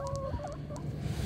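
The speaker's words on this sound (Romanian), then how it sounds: "Uitați și găinile." A few hens cluck softly nearby in a short burst of low, throaty calls over a faint background hum.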